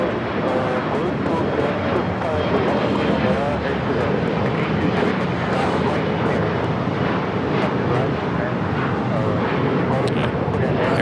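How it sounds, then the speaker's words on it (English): An Air China Boeing 777 on its final turn toward landing at LAX, a loud continuous jet roar with a person talking over it throughout. "Air China at the 777 making that final turn heading into Tom Bradley."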